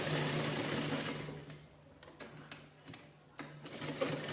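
A sewing machine runs steadily, stitching canvas all the way around a square cushion seat, its motor hum continuous with a few brief pauses and clicks, moderately close and alone.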